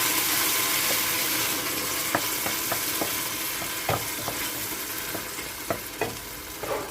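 Chopped tomatoes go into a pot of frying onions for a bean stew, setting off a steady, close sizzle with repeated sharp splashing pops and stirring scrapes throughout.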